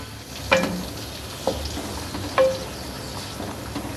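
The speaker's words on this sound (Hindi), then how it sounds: "अब प्याज को हम उस वक्त तक इसमें फ्राई करेंगे जब तक कि प्याज का कलर थोड़ा चेंज ना होना शुरू हो जाए" Onion paste from three large onions fries in about a cup of hot oil in a kadhai, a steady close sizzle with a few scraping stirs punctuating it at intervals.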